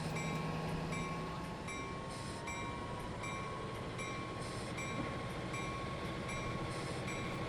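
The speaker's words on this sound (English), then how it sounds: "we've been held up waiting for trains to go past. Primarily it was obviously that freight train" A freight train rumbles past in the Transport Fever 2 simulation game, a steady, dense rolling clatter with faint rhythmic clicks that holds evenly throughout at moderate volume.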